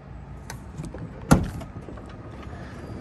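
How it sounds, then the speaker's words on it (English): A power sliding door and step on a Mercedes-based Grech Turismo-Ion Class B camper van, with a motorized hum and a sharp latch thump midway, close by in an outdoor setting. "Power door on Mercedes, not all of them have it."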